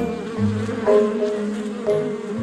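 Steady insect buzzing with a low droning hum that rises and dips slightly, several bees humming close by without any voices.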